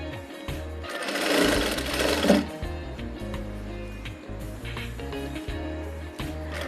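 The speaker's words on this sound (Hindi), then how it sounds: "अब दोबारा से आप डबल सिलाई करके पक्का कर लीजिए" A sewing machine double-stitching a sleeve seam, running in close, loud bursts of rapid mechanical whirring with brief pauses between runs.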